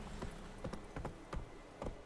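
Hooves of a horse in The Witcher 3 clip-clopping in an uneven rhythm, about six close, fairly soft steps over a quiet game background.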